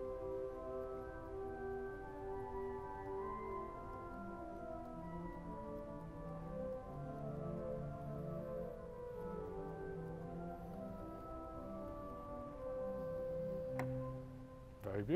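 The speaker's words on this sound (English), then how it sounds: "let's start with the concert flute, 8 foot, which sounds very German" Concert flute 8-foot stop on the first concert hall pipe organ in the United States, playing a slow melody of soft, steady sustained notes with changing pitches, close and clear, ending with a brief sharp knock.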